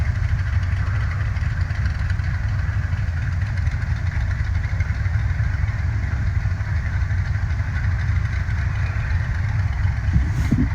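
A rowdy small-block V8 in the Venom Racing off-road race car idles steadily at a hill race, giving a constant loud, low rumble for about ten seconds with no talking.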